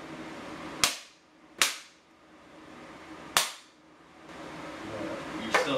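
Three sharp, ringing impacts of a wooden stick striking steel plate armor, each decaying quickly, followed by a softer fourth hit near the end, with no talking.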